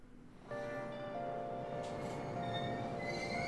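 Persona 5 video game train riding along rails, a steady loud rumble with a sustained tonal hum that starts abruptly and continues evenly to the end.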